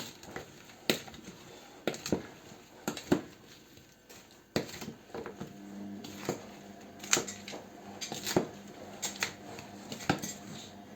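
Light crunchy scraping and clicking as chopped green tomatoes are tossed and stirred with salt in a bowl, in irregular bursts, fairly quiet and close.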